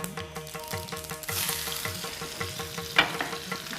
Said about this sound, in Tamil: தாளிச்சு கடுகு, கொஞ்சம் கடுகு, பச்சை மிளகாய்